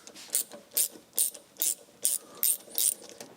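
Ratchet working loose the carburetor linkage on an MGB GT: seven quick, close clicking bursts in an even rhythm, each a short metallic ratcheting rasp, with no voices.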